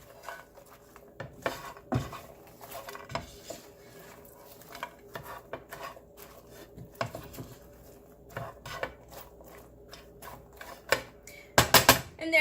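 A spoon stirs a breakfast skillet bowl of fries and potatoes in a pan, making quiet, irregular clinks and scrapes, with a louder cluster of knocks at the end.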